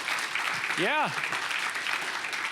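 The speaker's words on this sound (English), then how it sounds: "I think we can clap for that." A church audience applauds in a steady, dense wash of clapping while a single voice briefly says a word over it.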